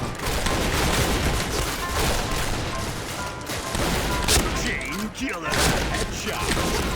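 Dense, continuous in-game gunfire with booming shotgun blasts and crashing impacts from a shooter game, loud and unbroken throughout, layered with voices talking.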